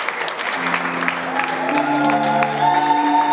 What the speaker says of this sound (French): j'aimerais qu'on applaudisse pour bébé Ilan